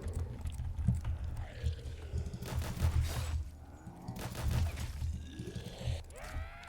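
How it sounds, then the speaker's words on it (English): Rapid, continuous bursts of Death Machine Gatling gun fire in Black Ops 3 Zombies, loud and close, rattling in several sustained stretches with brief pauses between them. "the death machine is the Gatling gun"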